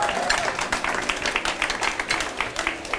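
A small audience applauds for chocolate sauce at a cooking event, giving dense, steady clapping for about three seconds, fairly close, with faint voices mixed in.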